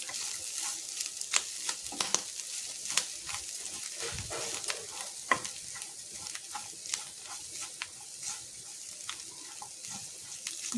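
Masala powders stirred and fried in a pan at home: a steady close hiss with scattered sharp clicks and scrapes from a spoon against the pan, with no talking.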